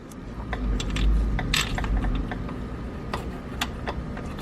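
Small metallic clicks and scrapes of a size 14 bolt being started by hand into the starter mount on a Kia Soul, close and intermittent over a low rumbling background, with no talking.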